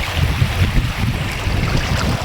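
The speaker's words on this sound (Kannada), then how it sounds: "ಸ್ವಲ್ಪ ತುಂಬ ರಭಸವಾಗಿದೆ ನೀರು, ತುಂಬ ಜೋರಾಗಿ ಬರ್ತಾಯಿದೆ" River water rushing strongly into a lake, a loud continuous roar with heavy low rumbling and wind buffeting the microphone.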